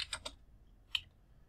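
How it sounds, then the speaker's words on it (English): A computer keyboard clicks as the umount command is typed: a quick burst of three keystrokes, a pause, then one last isolated key press, soft and close. "So if I type in umount"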